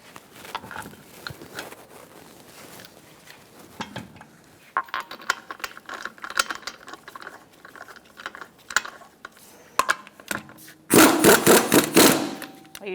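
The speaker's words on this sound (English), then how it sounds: "Install your wheel. Start your lug nuts by hand." On a Buick Encore wheel, lug nuts are threaded on by hand, giving a string of close metallic clicks and light rattles, ending in a louder burst of fast ratcheting.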